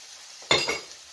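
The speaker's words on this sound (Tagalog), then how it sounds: "Yan, gisa mo lang yung heart." A brief sizzle and scrape as heart meat is stirred in a hot pan, one short close burst with a quieter follow-up stir, and no talking.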